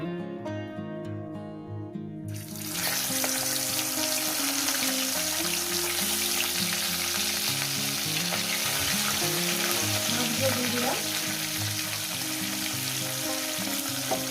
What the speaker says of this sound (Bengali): মাছগুলো দিয়ে আমি ভালো করে ভেজে নিব